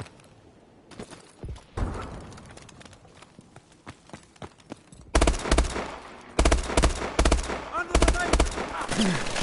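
Rapid gunfire bursts ring out in the video game Call of Duty: Advanced Warfare, sparse at first and then dense, loud volleys crowding the second half, with no talking.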